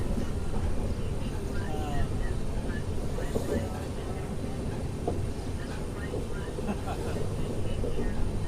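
The Secunderabad-Guntur Intercity SF Express heard from on board while running, a steady rumbling roar of wheels and carriage with faint clatter, continuous and fairly loud throughout.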